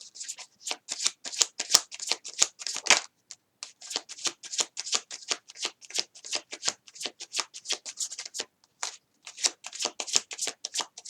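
Tarot cards riffle-shuffled close up for a reading, a rapid run of crisp flutters in bursts with brief pauses between, no talking over them.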